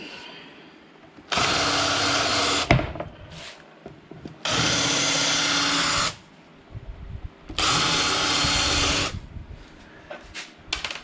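A power drill countersinks holes in a wooden battery box base, three loud whirring bursts of about a second and a half each, separated by short quiet gaps with light handling clatter, no talk.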